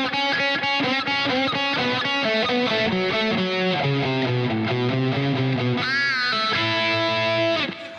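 Overdriven electric guitar runs quick triplet phrases from a solo, descending then rising to a long bent, vibrato note, steady and loud with no voices.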